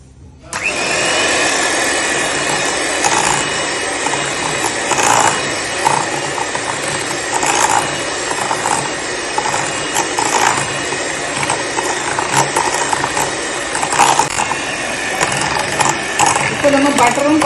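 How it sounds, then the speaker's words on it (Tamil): A mixer beats butter and mashed banana for a banana walnut cake, a loud, close, continuous motorized whir with gritty rattling that holds steady throughout. "இப்போ நம்ம பட்டரும் பழமும் நல்லா அடிச்சாச்சு."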